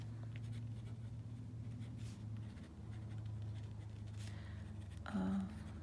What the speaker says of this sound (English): Okay, so I will write that down.